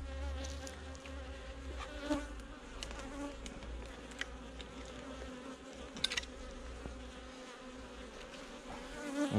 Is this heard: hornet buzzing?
yes